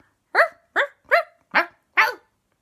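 A dog barks five times in a quick, evenly spaced series, each bark sharp, loud and close, with brief silence between and after.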